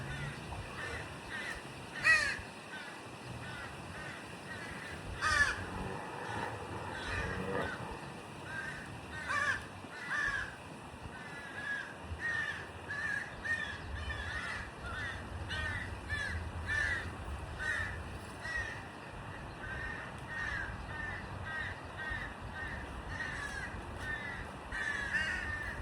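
Crows caw repeatedly outdoors, with harsh calls scattered irregularly and some overlapping, at moderate distance over a soft ambient background.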